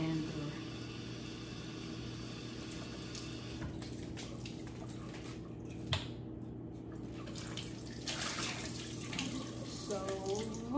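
Kitchen tap water runs steadily while mushrooms are washed under it, a continuous close splashing hiss with small shifts in texture as the flow is disturbed, and a voice talking faintly beneath.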